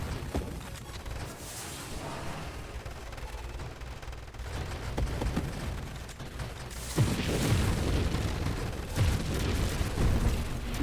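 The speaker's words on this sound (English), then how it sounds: "they're just a general cluster of explosions at this point" Clustered explosions from sentry turrets fill a space shooter game, Nova Drift, as a dense, continuous rumble of blasts and gunfire that grows heavier toward the end, with no talk.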